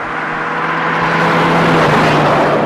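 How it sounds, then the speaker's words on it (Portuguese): A truck makes a loud, steady engine roar and broadband rumble that swells slightly, close and continuous, without voices. "O barulho de um caminhão pode chegar a aproximadamente 100 decibéis."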